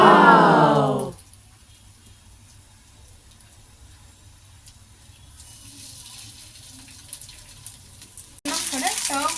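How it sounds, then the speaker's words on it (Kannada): Spicy fish frying on a hot tawa: a loud oily sizzle at the start drops away to a faint low crackle, then a sharp burst of sizzling returns at the end. "ಈಗ ಫಿಶ್ನ ಒಂದೊಂದಾಗಿ ತಗೊಂಡ್ಮೇಲೆ ಹಾಕೊಳ್ಳೋಣ"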